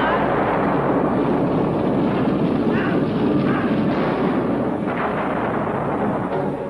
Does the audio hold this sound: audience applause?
no